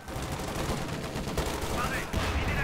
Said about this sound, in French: Le Sherman prend des tirs.